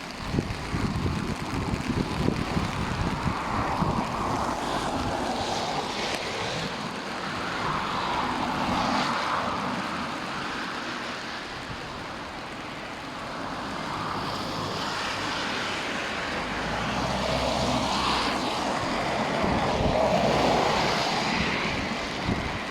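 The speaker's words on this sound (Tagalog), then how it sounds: "Hangin pa jud bro, nagbagyo." Strong gusting typhoon wind in the Philippines roaring and buffeting the microphone, swelling and easing in waves over a continuous rushing noise.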